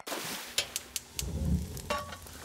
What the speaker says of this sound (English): Quit stirring so hard,